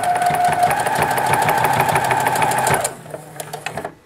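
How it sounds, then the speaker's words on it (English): Sewing machine stitching across a coiled fabric clothesline, a rapid, steady mechanical chatter of the needle running for under three seconds, then stopping, leaving a few quiet clicks and handling sounds. "I'm going to sew right across."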